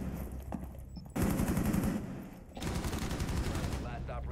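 Rapid bursts of automatic gunfire in the Rainbow Six Siege video game crackle in two dense volleys, fairly faint and mixed with game sounds.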